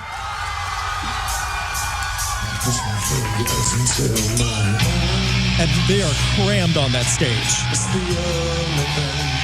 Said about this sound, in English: The crowd's losing it already.